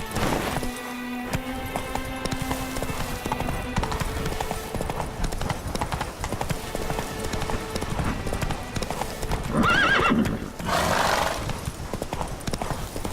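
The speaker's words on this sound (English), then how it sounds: "Even a horse drops if you ride it at a constant gallop." Steady rhythmic clip-clop of a galloping horse throughout, with a horse whinnying partway through, over background music, in the video game The Witcher 3: Blood and Wine.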